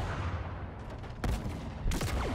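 Wraith plasma mortar shots in the Halo Infinite campaign: a steady rumbling battle bed broken by two sharp, loud blasts about two-thirds of a second apart, with no talk.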